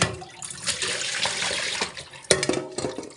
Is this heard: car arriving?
no